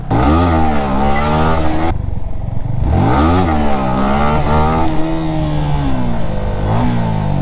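Yamaha R15 sport motorcycle ridden and revved, its engine loud and close, rising and falling in pitch through repeated throttle blips with a brief drop between pulls.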